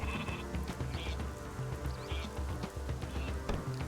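Sheep bleating in the video game Northgard, several repeated calls over a steady bed of game music and ambience, moderately loud throughout.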